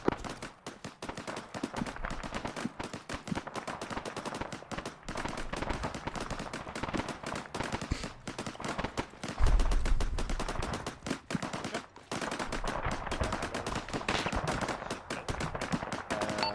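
Sustained gunfire in a co-op military shooter game (Tusken Raiders on Farabad), dense rapid bursts and single shots rattling almost continuously, with a heavier blast near the middle.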